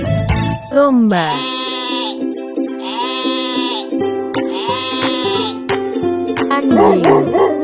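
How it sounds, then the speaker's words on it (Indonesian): Sheep bleating loudly and close, three long wavering bleats in sequence with a shorter cry at the end, no other sounds around them. "Domba."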